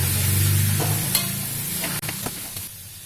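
Rice vermicelli being stir-fried in a pan, a steady close sizzle with scraping stirs and light clinks from the utensil, no talking.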